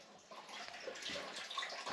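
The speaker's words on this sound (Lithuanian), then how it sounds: "vandens vis dar yra sistemoje" Water still trickling and gurgling inside the pipes of a home heating system after the radiator bleed valve has been opened, a steady close hiss and splash of flow lasting throughout with no talk.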